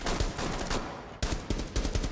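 Rapid bursts of gunfire from a Rainbow Six Siege match crackle densely and loudly, with repeated sharp shots in quick succession and a brief gap before firing resumes.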